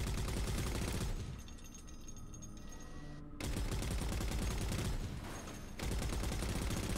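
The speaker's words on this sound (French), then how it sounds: "En gros, on tire sur les Covenants" Sustained automatic gunfire from a Halo: Reach battle against the Covenant, loud, dense bursts that dip briefly and resume, with game effects underneath and no talk.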